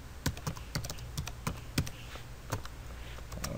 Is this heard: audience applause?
no